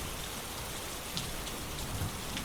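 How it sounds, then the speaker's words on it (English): Steady rain falls outside at night in a constant, dense hiss, with scattered louder drops and no voices. "let your mind drift into the soothing rhythm of the rain outside"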